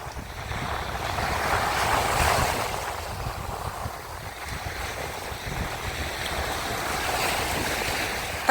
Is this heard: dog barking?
no